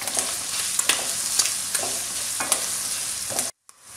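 Chicken seasoned with salt and black pepper sizzles in a pan while a spatula stirs it, several scraping strokes over a constant frying hiss, then the sound cuts out briefly near the end.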